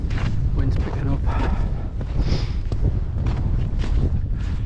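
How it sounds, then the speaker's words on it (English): Strong wind buffeting the microphone on a wintry hill walk, a continuous loud rumbling roar with gusty swells, and a voice speaking briefly over it. "Wind's picking up."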